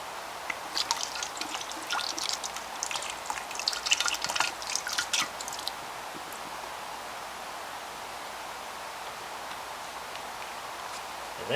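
Maple extract pours from a 2-ounce bottle into a fish brine for trout or salmon, a close, faint trickle and splashing for several seconds before it tapers off into quiet room tone.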